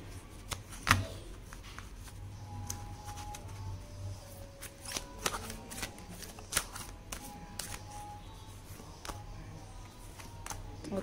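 Tarot cards being shuffled up close in a quiet room, with quick papery riffles and soft slaps in irregular bursts and faint voice in the background.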